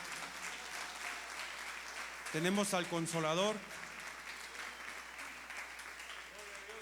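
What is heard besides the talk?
congregation applauding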